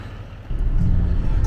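A truck towing a fifth-wheel camper rolls along a road in Pennsylvania, heard from inside the cab as a loud, steady low rumble of engine and road noise that swells slightly partway through the short stretch.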